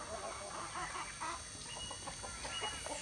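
Chickens in a Maya village cluck and peck while eating corn for breakfast, a steady chorus of close, busy clucks with brief calls over a constant background hiss.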